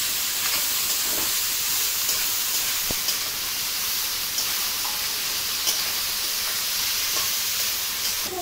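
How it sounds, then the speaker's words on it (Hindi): A whole chopped onion fries in a pan for a Bengali-style chicken dish, giving a steady, even sizzle and hiss that carries on without a break and with no talking. "उधर जब तक प्याज भून रहा है"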